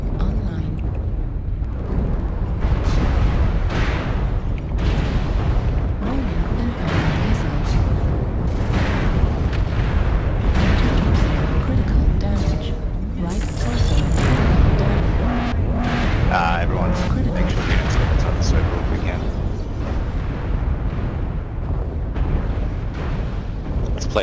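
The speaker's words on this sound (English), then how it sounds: "Airstrike online." Airstrike explosions in MechWarrior Online faction warfare, heavy booming blasts rolling continuously under loud game noise, with voices talking over the action throughout.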